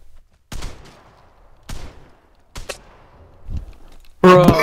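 Shotgun blasts in the multiplayer shooter Vigor, four sharp separate booms spaced about a second apart, followed by a louder burst of game sound, with no talk over them.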